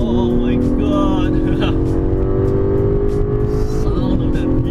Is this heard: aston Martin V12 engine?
yes